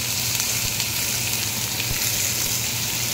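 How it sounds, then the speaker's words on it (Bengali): Chopped onion sizzles in hot oil in a kadai, a steady, even hiss running unbroken throughout with no voices. "এবার আমি কড়াইয়ে একটু তেল দিয়ে ওর মধ্যে দিয়ে দিচ্ছি পেঁয়াজ কুচি"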